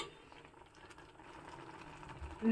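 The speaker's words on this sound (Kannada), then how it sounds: "ಕುದಿತಾ ಕುದಿತಾ ಇದು ಸ್ವಲ್ಪ ಗಟ್ಟಿ ಅನಿಸತ್ತೆ" Goddu huli curry, thickened with ground toor dal, bubbles in a pot: a quiet, steady simmer with soft popping, heard alone and swelling slightly at the very end.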